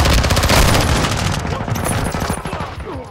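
Rapid automatic gunfire in Call of Duty: Modern Warfare II, a dense loud burst of shots that thins into quicker scattered rattling, with voices calling out over the shooting.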